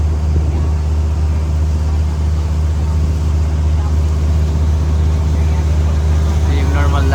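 A large Fuso passenger boat's engine drones in a loud, steady low rumble while running at speed, with people talking over it.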